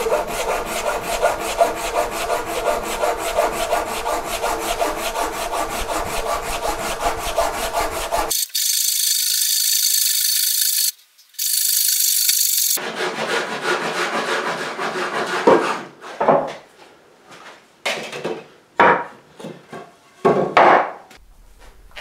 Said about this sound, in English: I'm simply going to break this down with a handsaw into more usable chunks.